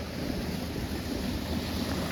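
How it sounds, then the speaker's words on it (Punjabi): Electric water pump motor running in a farm field during wheat sowing, a steady dense broadband whir with a constant hum, continuous and close, with no voices. "ਇੱਧਰ ਮੋਟਰ ਚੱਲ ਰਹੀ ਆ"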